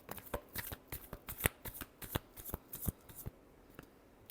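A deck of tarot cards is shuffled close up, a quick series of crisp riffling snaps and slaps at uneven intervals in a quiet room.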